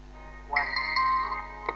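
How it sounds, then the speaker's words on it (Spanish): A short electronic telephone ring plays as a cue in a guessing game. It is a bright tonal chirp lasting about a second over a low steady hum. "Teléfono."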